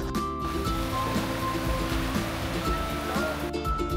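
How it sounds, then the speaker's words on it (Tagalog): Ocean surf washing continuously at Magpupungko beach on Siargao, a steady full roar of breaking waves close by with no voices over it. "nakakakalma yung alon dito sa Magpupungko"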